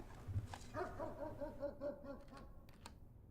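Dogs in the video game Blue Prince give a quick run of short, rhythmic yips and barks, fairly quiet, followed by a few light clicks.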